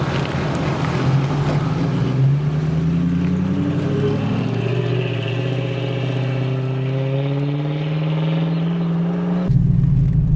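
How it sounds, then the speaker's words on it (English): Infiniti Q45 V8 engine pulling steadily while driving, its low harmonic tones climbing as revs build over about nine seconds, loud and continuous with road and wind rush, then cutting abruptly near the end. "The V8 engine spools up really nice."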